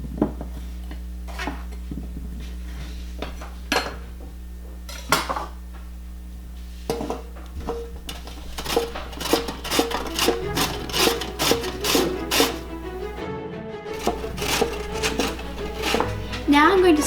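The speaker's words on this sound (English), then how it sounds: "Next, combine the wet and dry ingredients." Wet and dry ingredients for lentil rice cakes are stirred together in a bowl, with repeated clinks and scrapes of a utensil against the dish growing busier toward the end.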